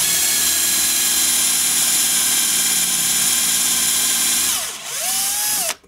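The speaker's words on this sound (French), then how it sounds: "c'est du bois très très dur, hein. Donc pour vous dire que ça perce très facilement" A power drill bores a 35 mm hole into very hard wood, a loud steady whine running nearly six seconds before the motor winds down and briefly revs again at the end.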